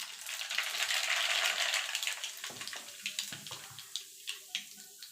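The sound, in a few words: nigella seeds added to hot oil for mango pickle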